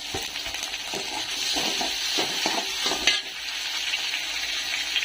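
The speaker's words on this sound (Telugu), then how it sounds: "ఇప్పుడు ఇందులో మనం టమాటా ముక్కలు వేసేసుకుందాం" Tomato pieces drop into onions frying in a pan for a sorrel chutney, sending up a steady, close sizzle punctuated by several soft thuds and stirring scrapes.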